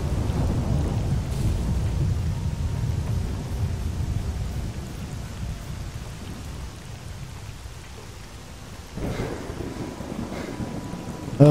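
A thunderstorm in the game S.T.A.L.K.E.R. Call of Pripyat: steady heavy rain patters on surfaces while deep thunder rumbles low early on, fading, then another distant roll of thunder arrives near the end.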